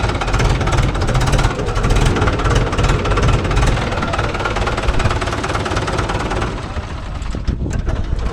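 A JCB 3DX backhoe or Mahindra 415/575 DI tractor diesel engine running loud and close, a steady knocking rumble with rattling vibration, easing slightly near the end, with voices faintly mixed in.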